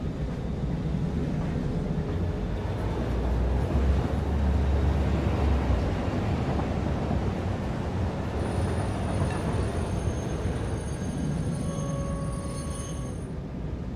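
A train running in the factory-building video game Satisfactory, a steady rumbling rail roll with clattering and a faint hissing tone, continuous and moderately loud throughout.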